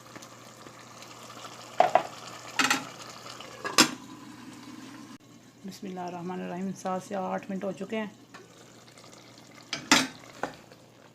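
Potatoes and capsicum are stirred in a cooking pan, with sharp spoon scrapes and clanks against the metal over a soft sizzle, and a person speaks between the stirring bursts.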